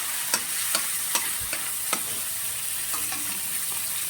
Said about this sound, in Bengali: চিংড়ি মাছটাকে একটু ভালো করে ভেজে নিতে হবে অলরেডি।